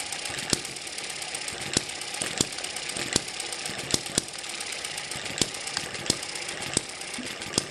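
An Eachine ET7 hit-and-miss model engine runs slowly, below about 1,000 RPM, with sharp regular firing knocks roughly every 0.7 seconds over a steady mechanical whir, close and alone.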